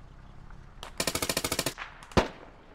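Suppressed automatic fire in the military shooter Squad, a tight burst of about ten muffled rapid shots, then a single louder crack a moment later, with no voices.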